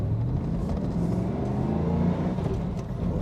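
A 1997 Firebird Firehawk with its LT4 V8 pulls hard after the clutch comes out, a loud, steady close engine rumble building through the revs with no talk over it.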